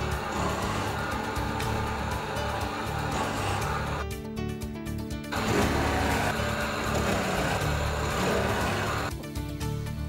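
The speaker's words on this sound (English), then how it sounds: "Countersink the holes." A power tool countersinks holes in boat water tank lids for a Hallberg Rassy 312, giving a steady, loud motor whine that runs nearly the whole time and drops out briefly in the middle before resuming.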